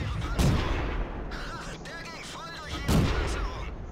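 A tier 5 T-49 tank destroyer firing in World of Tanks, two heavy booming cannon shots roughly two and a half seconds apart, with a voice talking in between.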